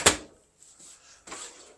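A drawer slides with a quick knock, a soft scrape follows, then another drawer runs open or shut with a rattling slide, fairly close in a quiet room inside a 2024 Jay Feather 21MML travel trailer.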